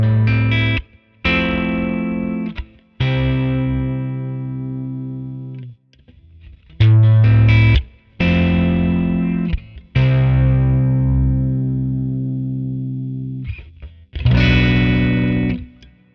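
Electric guitar through its stock bridge pickup with edge-of-breakup distortion, played as loud sustained chords and ringing notes in several separate phrases with short silences between, no talking.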